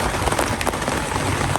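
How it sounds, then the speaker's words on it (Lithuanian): Heavy rain drums on a tent, a dense, continuous patter of close drops that rises and falls slightly and keeps up without a break. "sėdint į palapinę, lyja lietus, tai gan stiprokai"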